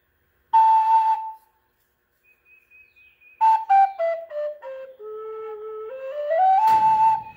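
A homemade PVC Native American flute sounds clear breathy tones: one short held note, a faint thin whistle, then a run of notes stepping down and sliding back up to a loud bright finish, solo and close.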